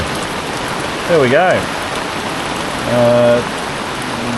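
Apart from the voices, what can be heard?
rain falling on a boat deck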